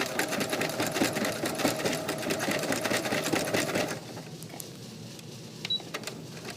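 Sewing machine stitching a knit neckband with its bobbin running low on thread, a loud steady whirring clatter that stops abruptly partway, leaving faint room noise and a few small clicks.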